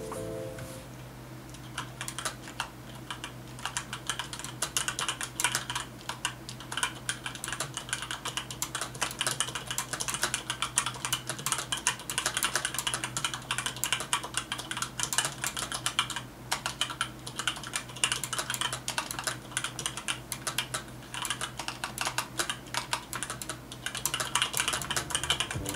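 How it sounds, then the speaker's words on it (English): Steady, fast typing on a Razer Productivity Suite keyboard with linear yellow switches, continuous close-up key clatter with no talking. "Check out this quick keyboard type test."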